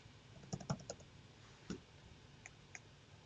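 A few faint keystrokes on a computer keyboard, a short burst of clicks near the start, then one more tap and two light ticks spaced apart, all quiet in a still room.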